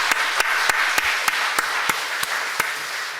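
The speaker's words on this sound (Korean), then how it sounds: "이 시간 우리 하나님 아버지께 감사하는 마음으로 우리 박수로 영광을 돌리겠습니다" A church congregation at a Korean Sunday worship service applauds in praise, sharp rhythmic claps landing about three times a second over a steady bed of clapping, with no voices.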